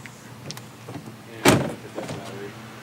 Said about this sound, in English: Should probably shut my door.